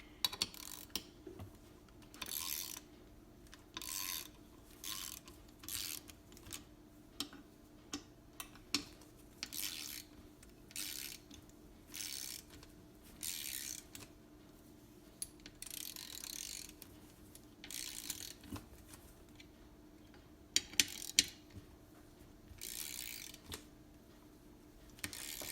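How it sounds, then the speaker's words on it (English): Short repeated bursts of clicking from a ratchet wrench being turned on a metal part, each burst a quick rattle of pawl clicks separated by pauses, fairly quiet and close. "Keep grabbing the wrong ratchet."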